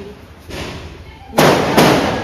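Two sharp Lakshmi firecracker bangs go off close by during Deepavali celebrations, about half a second apart. Each burst cracks loudly and then fades into a brief hiss.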